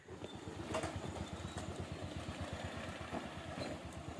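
A motorcycle engine putters on a hill path leading to a temple in Uttarakhand, its rapid, even low chugging fairly faint and steady throughout.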